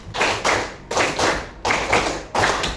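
Classroom of students clapping a counted pattern in unison, loud close bursts in four distinct groups of rapid claps with short pauses between them.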